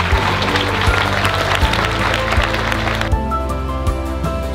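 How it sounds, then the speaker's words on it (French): Sustained applause from a seated audience at a 2023 diploma ceremony for construction graduates, clapping for their parents; a steady, dense wash of claps that continues without a break, with a low hum running underneath. "je pense que vous pouvez applaudir"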